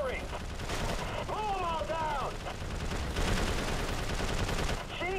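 Rapid gunfire from an unlimited-ammo gun in Prototype 2 rattles steadily throughout, mixed with whooshing game effects and a voice speaking over it.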